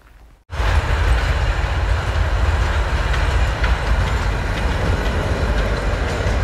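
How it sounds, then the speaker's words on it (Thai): A vintage tourist train rolls past through a German forest, starting abruptly as a loud, close, continuous rumble with a faint clatter of wheels and no talk. "อันนี้ก็เป็นรถไฟโบราณนะคะที่นำนักท่องเที่ยวเนาะผ่านป่าตรงนี้นะคะ"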